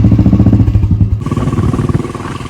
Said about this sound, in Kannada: ನಮ್ಮ ಬೈಕು ಇಲ್ಲಿದೆ